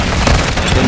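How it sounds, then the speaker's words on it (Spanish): A stun grenade blast in the video game Call of Duty MW3, a dense booming roar that fills the whole clip at full loudness with no clear break. "¡Va granada! ¡Aturdidora!"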